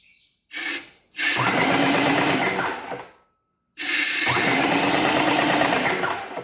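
A used RYOBI paint sprayer runs in two loud bursts, the first about two seconds and the second about three, separated by a short pause, giving a steady motorized buzzing hiss at close range with no speech.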